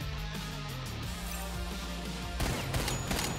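Gunfire from the game Bullets Per Minute, double shots firing as a sharp burst near the end of a loud, layered music-and-combat bed.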